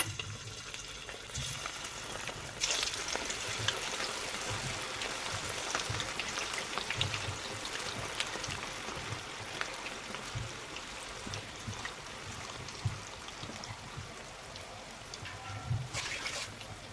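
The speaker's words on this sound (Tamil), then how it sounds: "இப்போ நம்ம மிக்ஸ் பண்ணி வச்சிருக்கிற இந்த காலிஃப்ளவர் வந்து நம்ம போட்டு பொரிச்சிக்கலாம்." Cauliflower pieces frying in hot oil for manchurian, a dense, even crackling sizzle like light rain that runs continuously at moderate level, with a few brief knocks from a utensil and no voices.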